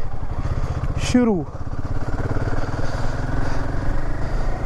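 A Royal Enfield Himalayan motorcycle's single-cylinder engine thumps steadily and loudly up close as a road ride begins, with a rider speaking over the continuous engine drone.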